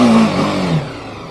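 A BMW G 310 GS adventure motorcycle engine revs up briefly, then the pitch drops back as it settles, loud and close, with no voices.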